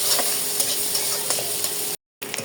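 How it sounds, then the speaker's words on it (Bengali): Onion and green chilies frying in hot oil give a continuous crackling sizzle with scattered small pops, running steadily before a brief silent gap and a short resumption. "পেঁয়াজটা ভালো মতো ভেজে নিতে হবে।"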